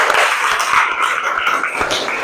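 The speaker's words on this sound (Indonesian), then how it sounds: "Tepuk tangan yang meriah." A classroom of students applauds together, a steady dense patter of many hands clapping close by for a couple of seconds with no talk over it.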